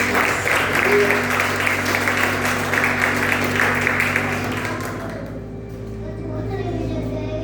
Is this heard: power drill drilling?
no